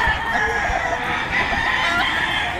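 Gamefowl roosters crow and cluck continuously at a busy game farm sale, several birds overlapping close by in a loud, unbroken chorus.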